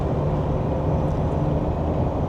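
JAC T9 ute with a 125 kW engine rolling gently through corners, a steady low engine and road drone continuing without break, close and fairly loud.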